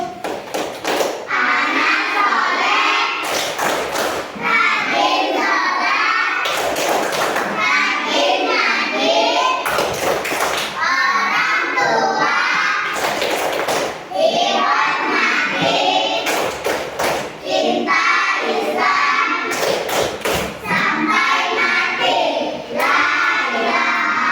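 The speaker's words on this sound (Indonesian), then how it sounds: "Ayo kita sama-sama tepuk anak soleh" Children clap out the tepuk anak soleh chant in an Islamic religious lesson, sharp rhythmic hand claps in repeated bursts mixed with loud sung and chanted voices throughout.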